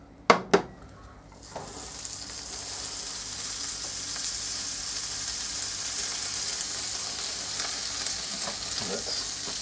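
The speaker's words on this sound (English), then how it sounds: "That butter is browning quite quickly." Butter sizzles and browns in a toasted sandwich maker, a steady close frying hiss that swells after two sharp knocks at the start and holds evenly to the end.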